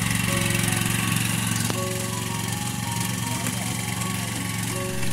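A Kubota rice transplanter's engine runs steadily with a droning, lawn-mower-like hum and vibration, close and constant, with a faint clank partway through.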